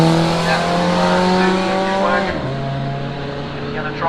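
A Subaru wagon on a drag strip, its engine howling through rising gear tones, then a gear change and a steady strained note, loud and close with a commentator talking over it.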